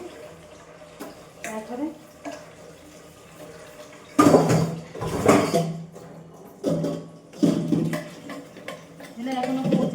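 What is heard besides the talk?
washing dishes with running water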